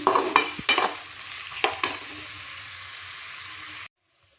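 Carrots and peas stir-fry in a pan for vegetable pulao, with several sharp spatula scrapes and clacks over a steady sizzle that cuts off abruptly near the end.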